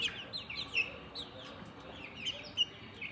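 Three-week-old chicks peep and cheep in a steady scatter of short, high calls, with a few louder chirps standing out close by over a soft, busy background.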